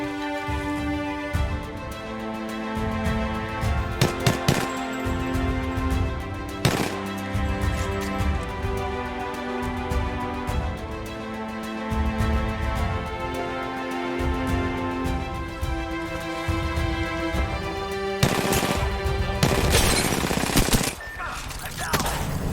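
Gunfire in the Apex Legends battle royale game, RE-45 pistol among the weapons: dense bursts of automatic fire and sharp single shots layered over game music and effects, loud and continuous throughout.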